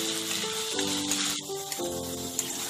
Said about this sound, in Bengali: আদা রসুনটাকেও আরেকটু ভেজে নেব।